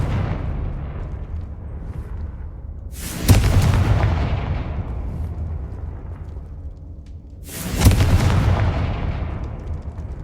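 Confringo spell blasts in the game Hogwarts Legacy: two loud, sharp explosive cracks about four seconds apart, each followed by a rolling, fading rumble over a constant low background roar, with no talking.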